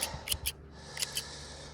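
Garden shears trimming fruit tree or garden plants make a few quick, crisp snips close up, in two small clusters with a pause between.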